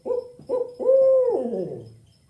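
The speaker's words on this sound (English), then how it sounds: "if you ever hear that call as you're going around the forests or just your backyard at night, go ahead and remember, it's the barred owl" A barred owl hoots two short notes, then a long drawn-out call that trails off, clear and close in a quiet setting.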